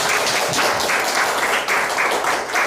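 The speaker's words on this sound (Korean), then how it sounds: "우리 큰 박수로 우리 축복합니다" A church congregation at a Presbyterian general assembly greeting claps in a thick, loud, continuous wash of applause, filling the hall without any voices on top.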